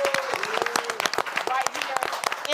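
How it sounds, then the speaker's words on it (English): A quick round of applause from an audience in Atlanta, dense clapping heard alongside talk and cheers, with a voice continuing over the top. "Can we give a quick round of applause?"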